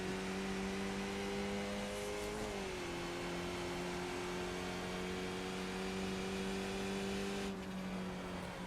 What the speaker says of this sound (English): You can hear the revs going up.